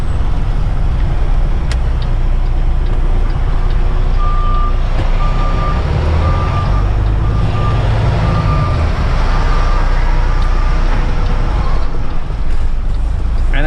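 A truck backs up in a parking area beside a trailer, its reversing alarm beeping steadily and evenly through most of the stretch over a loud engine rumble and wind buffeting.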